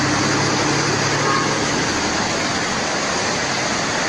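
Floodwater rushes at Gwagwalada bridge as a loud, constant broadband roar, steady and close, with no talk over it.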